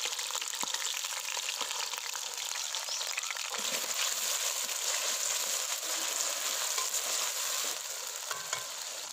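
About half a kilo of cut taro roots frying in hot oil over medium heat, a steady close crackling sizzle with occasional stirring, continuous throughout and no talking.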